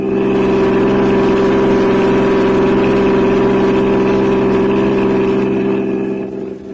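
A car engine runs steadily and loudly throughout with no talk, a constant low drone that thins and fades slightly at the very end.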